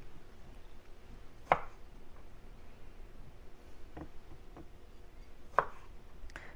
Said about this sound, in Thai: เดี๋ยวระหว่างรอเส้นแล้วก็มาหั่นมะเขือเทศนะ